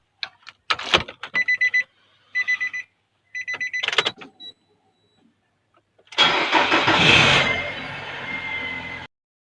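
A Nissan Juke starts up after a series of beeps and clicks, its engine cranking and catching into a loud, close, rough idle that settles and keeps running steadily.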